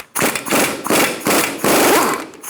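Loud mechanical bursts from a 32mm socket driven onto the axle nut of a 2014-2019 Kia Soul during steering knuckle replacement, four rattling pulses of roughly half a second each with brief gaps, close and alone.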